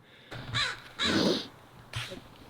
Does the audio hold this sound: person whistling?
no